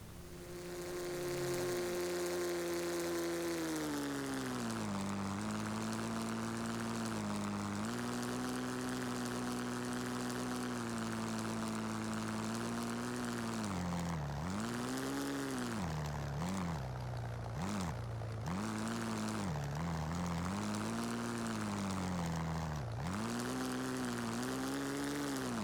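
A DHC-2 Beaver propeller plane on wheels drones through an RC flight simulator game, a steady buzzing engine tone that rises and dips in pitch repeatedly as the throttle changes, continuous and fairly even in level.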